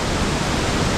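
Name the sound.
Ayena waterfall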